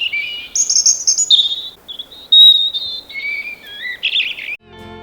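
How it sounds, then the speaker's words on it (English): A robin sings its winter song up close, a wistful string of thin, high warbled phrases broken by short pauses, loud and clear against a quiet outdoor background with no talk. "Male and female robins both sing the winter song."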